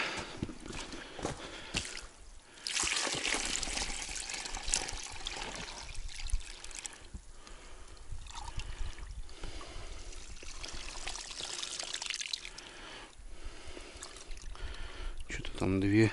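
Water is changed in a small pit dug in the sand to hold lamprey bait for burbot fishing. A close, continuous trickling and pouring of water runs throughout, with occasional talk over it.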